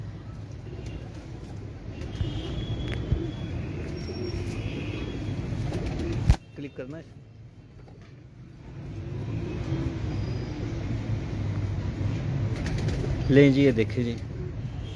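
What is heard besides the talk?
breeder pigeons cooing and flapping on rooftop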